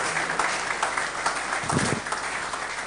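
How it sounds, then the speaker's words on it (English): Audience applause at a formal company event, broad continuous clapping from a crowd, moderately loud and steady, with a brief low voice or murmur partway through. "A big round of applause"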